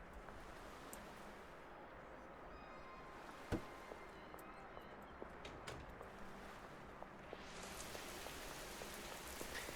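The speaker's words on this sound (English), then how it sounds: "It's raining, it's pouring" Steady rain falls and patters on a surface, a dense continuous hiss with scattered drops and one sharp knock partway through, with no voices.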